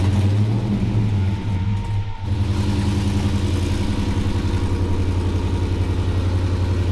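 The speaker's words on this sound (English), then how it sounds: "This is my first time ever driving the Bel Air since the fuel injection conversion" A 1957 Chevy Bel Air engine, newly converted to fuel injection, runs at a steady, loud idle close by, with an even throbbing rumble throughout.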